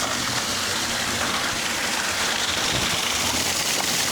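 A sculpture fountain in Vaduz, Liechtenstein, spits and gushes water in a steady, loud, continuous splashing rush heard close up, with no talking.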